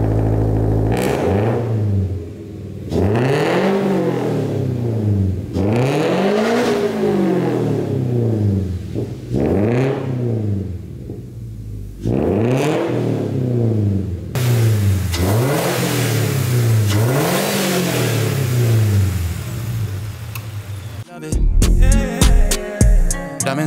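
A Toyota GR86 fitted with custom headers and an intake filter revs repeatedly, each loud rising-and-falling vroom coming in close succession with brief gaps, before the engine cuts off near the end and a few clattering noises follow.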